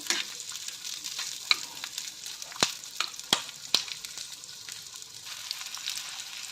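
Onion fries in oil until reddish, with a steady moderate sizzle and crisp spatula scrapes and taps at irregular intervals. Several sharp clinks stand out in the middle, and no voice is heard.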